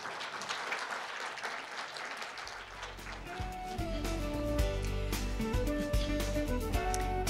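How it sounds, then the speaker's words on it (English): Audience applause at a special session of the WJC2017 conference in Korea, a dense wash of clapping for about three seconds that fades as music swells in and carries on to the end. "Please give a big applause to Vice Minister Ahn for his informative special session."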